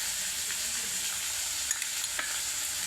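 Ginger and garlic fry with onion, capsicum and green chillies in a pan for chilli chicken, giving a steady, even sizzle with a few faint spatula scrapes and stirring taps.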